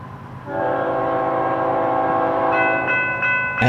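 An FEC EMD diesel freight train, a northbound manifest, approaching at dawn with a rising engine rumble and a sustained multi-tone horn blast, then a second horn note starting near the end.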